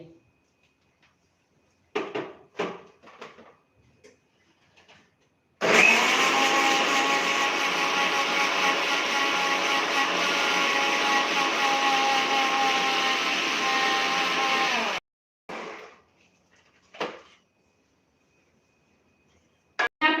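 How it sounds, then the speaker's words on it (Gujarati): A mixer grinder whirs loudly and steadily for about ten seconds, grinding spinach with a little water into a paste under a closed lid. Scattered taps and clatter come before and after the run. "હવે આપણે ઢાંકણ ઢાંકી અને પીસી લઈએ અને એકદમ સરસ પેસ્ટ બનાવી લઈએ"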